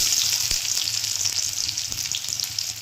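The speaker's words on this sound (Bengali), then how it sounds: "কড়াইতে তেল দিয়ে দিয়েছি। এবার এতে দিয়ে দেবো একটু গোটা জিরে, একটু পেঁয়াজ কুচি" Whole cumin seeds and chopped onion frying in hot oil in a wok, a loud, dense, continuous close sizzle with a few soft clicks and no talk.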